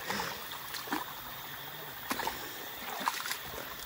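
A stream flows at night, with steady watery trickling and gurgling plus occasional splashes close by, under a faint continuous high-pitched insect-like hiss.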